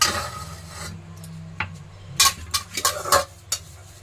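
Oil is spread by hand around the inside of a steel bowl, giving soft intermittent rubbing and scraping strokes, close and fairly quiet, with a few sharper swipes toward the end and no talking.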